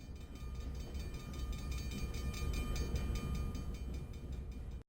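A train rolls along rails as a sound effect in an audio story, a steady loud rumble with rapid rhythmic clatter of wheels and a faint tonal hum, with no speech, cutting off abruptly at the end.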